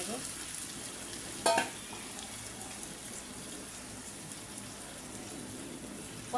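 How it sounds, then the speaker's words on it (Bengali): Fried rohu fish cooking down in a pan after water is added, a constant soft bubbling hiss close by, with one sharp clink of a utensil near the start. "ভাজা ভাজা হয়ে গেছে, এখন পানি দিয়ে একটু কষাই নেব।"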